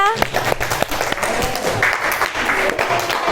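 Applause from an audience at an Indonesian school-style speaking session, a steady wash of clapping across the whole span, close and moderately loud.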